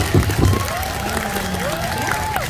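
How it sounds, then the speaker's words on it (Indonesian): School students clap for a national storyteller at an anti-bullying event, a dense crowd applause with a few loud bursts early on, while voices and whoops rise over the clapping. "Tepuk tangan dong untuk Kak Dini"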